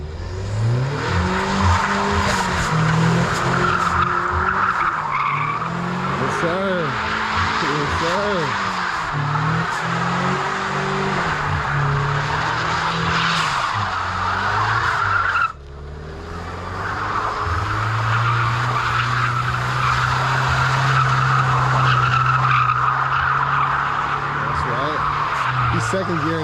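Ford Mustang sliding around with its tires squealing and skidding, a long, loud screech under a revving engine, near and continuous with a brief break midway, while people talk over it.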